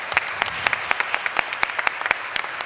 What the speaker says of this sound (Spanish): Un aplauso también para ellos.